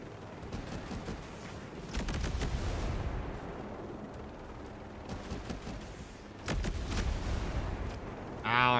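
Sniper and other gunfire in the video game Ghost Recon Breakpoint, heard as loud, dense bursts of shots that come in several clusters and stand out against steady background battle noise.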